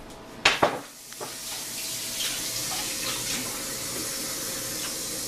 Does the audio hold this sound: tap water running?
yes